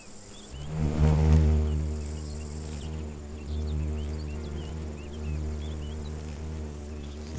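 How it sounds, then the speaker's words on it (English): Poppy mason bee in a wheatfield, a low droning insect buzz that swells loudly near the start, eases, then hums on steadily with faint outdoor ambience. "The poppy mason bee does hard labour."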